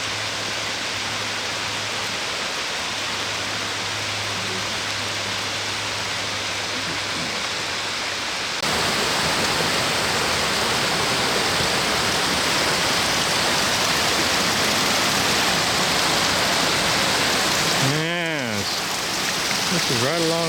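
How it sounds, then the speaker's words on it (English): A mountain creek flows beside a hiking trail in the Enchantments near Colchuck Lake, Leavenworth, giving a steady, close, broadband rushing of water that grows louder partway through, with a brief voice-like sound near the end. "You can hear a bigger creek just a little ways farther away."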